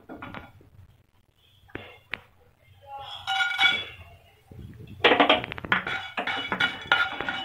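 Cloves dry-roasting in a pan for homemade garam masala, heard as scattered clinks and light metallic taps against the pan with short scraping bursts, growing louder and busier toward the end.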